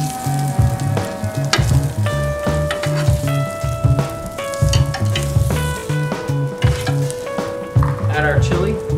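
Bacon sizzling loudly in a pan during preparation of braised chili-spiced short ribs, a dense close crackle with scraping stirs and utensil clinks, no voices.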